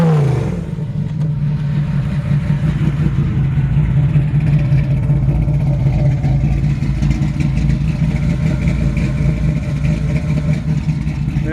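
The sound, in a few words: 1972 Chevrolet Camaro engine revving, exhaust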